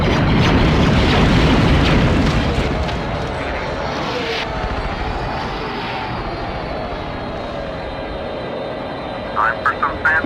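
A bomber roars overhead in the Star Wars Battlefront 2 game on PS2, its loud rumbling engine noise gradually easing, with a brief burst of chattering blasts near the end.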